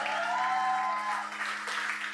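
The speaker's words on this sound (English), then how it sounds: "You can clap now." Audience applause fills a comedy club during a Kenny Sebastian stand-up show, a steady wash of clapping over a low hum that carries on without pause.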